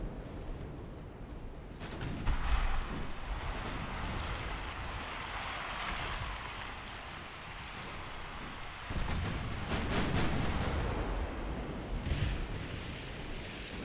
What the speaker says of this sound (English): Oh, another giant explosion.